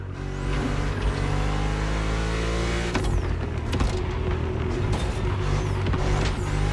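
BMW M CS engine in The Crew Motorfest, a steady near drone with a rising pitch as the car accelerates, mixed with mechanical whines and a few sharp clicks.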